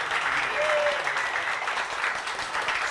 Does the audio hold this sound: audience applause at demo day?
yes